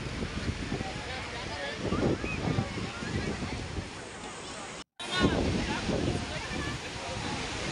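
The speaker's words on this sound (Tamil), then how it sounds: "அலைகள் அவ்வளோ ஃபோர்ஸாக இருக்கிற மாதிரி தெரியல நேரம்" Waves wash and break on the shore at Malpe beach in Karnataka in a steady, moderately loud surf, with rising swells, a momentary dropout midway, and some wind noise over the sea.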